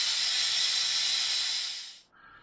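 Transmission oil being sucked out of the pan of a Jeep JKU through a hose: a loud, steady hiss of suction that fades and drops out near the end, leaving a brief quieter rush.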